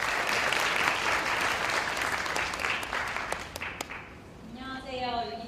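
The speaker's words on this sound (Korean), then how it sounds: "이하인 과장을 좀 박수로 맞이해 주셨으면 고맙겠습니다." An audience at a Unity developer conference in Seoul applauds a speaker with steady, dense clapping that thins and fades, and a voice begins speaking as it dies away.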